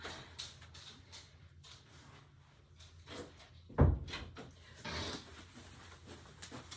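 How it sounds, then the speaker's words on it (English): A door is pushed shut indoors with a single solid thud partway through, surrounded by quieter handling rustles and small knocks in a calm room. "I'm going to go ahead and shut the door."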